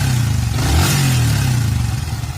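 A Yamaha Vixion motorcycle engine idles steadily up close after ten minutes of running, a low, continuous rumble with a slight rev partway through, no talking.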